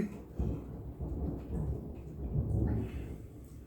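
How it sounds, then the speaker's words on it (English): Thunder from a storm rumbles low and steady for several seconds, a deep rolling grumble swelling toward the end, heard on its own without talk. "And the thunder, sorry."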